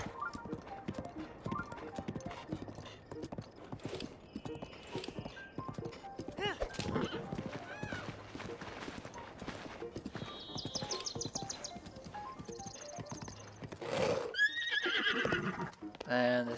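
Horse galloping and neighing in the video game Zelda: Breath of the Wild, steady rhythmic hoofbeats with several whinnies near the end, while a player talks over the game audio.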